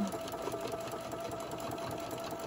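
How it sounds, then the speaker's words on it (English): A sewing machine runs steadily with a fast, even mechanical whir and faint rhythmic ticking, heard alone at a quiet level. "I just kind of give my machine a little push and it's fine."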